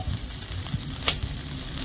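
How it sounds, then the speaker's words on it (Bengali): Soybean chunks frying in hot oil for a vegetarian cutlet, a soft continuous sizzle with occasional brief pops and a stir, close and fairly quiet, with no voices. "এখানে আমি খুব সুন্দর করে এই সয়াবিনটা ভেজে নিয়েছি"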